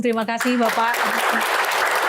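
Audience applause at an Indonesian Attorney General's Office (Kejaksaan Agung) event, a broad wash of clapping rising after a short spoken thanks and continuing steadily to the end.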